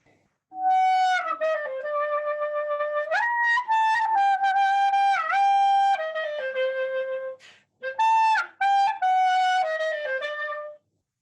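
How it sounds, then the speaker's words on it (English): A solo melodic instrument plays an ornamented klezmer tune, with bent notes and quick decorations, loud and close, pausing briefly before a final phrase. "uniquely Jewish klezmer tune."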